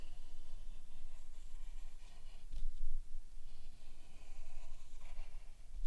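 A drawing tool scratches steadily across paper, tracing the letter S, with continuous soft, close scraping and small pauses between strokes and no voices.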